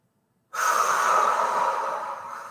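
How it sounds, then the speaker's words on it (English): One long, loud breath drawn close to the microphone during an exercise session, a steady airy rush that starts abruptly after a moment of silence and carries on without pause. "work with your breath, guys. Inhale, exhale."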